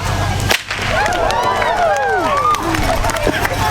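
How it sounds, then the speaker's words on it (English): A single sharp whip crack at an outdoor winter festival performance, loud and close, followed by a crowd murmuring and reacting with scattered voices. "I'm going to crack the whip again."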